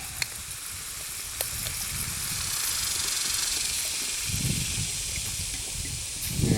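Teriyaki sauce sizzles on lobster in a U.S. G.I. mess kit, giving a steady, loud hiss that swells and fades, with a few small pops. No one talks.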